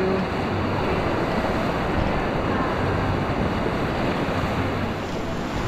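Surf rolls in at the beach of Manuel Antonio, Costa Rica, a steady, loud wash of waves mixed with wind buffeting the microphone, continuous and unbroken, with no talk.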